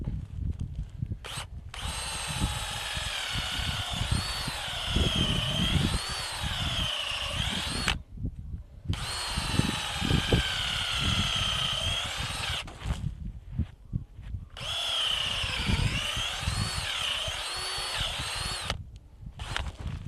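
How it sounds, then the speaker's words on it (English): A power drill turns a 1/2 inch wood auger bit into wood outdoors while coyote snares and traps are being set, in three long, loud, grinding runs split by brief pauses, close up and with no talking. "I believe this is a 1/2 inch wood auger bit"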